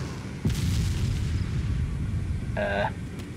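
An ammo crate blows up in Arma 2 after being shot: one loud, deep boom with a long rumbling tail, followed by a short tonal game sound near the end. No voices are heard.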